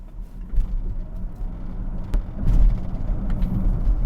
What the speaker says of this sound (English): Let's just accelerate and see how it feels from a very slow roll.